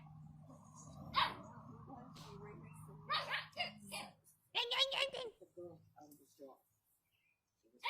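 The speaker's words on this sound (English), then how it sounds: "This big dog showed this little dog what a real bark is supposed to sound like." A big dog barks loudly in a played video, with a smaller dog nearby, in a few separate bursts mixed with whimpers and other voices.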